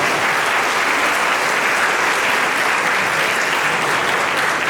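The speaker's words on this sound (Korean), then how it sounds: "뜨거운 박수 부탁드립니다." Wedding guests in a convention hall give a loud, sustained round of applause after the bride and groom bow to each other, a thick, continuous roar of clapping throughout.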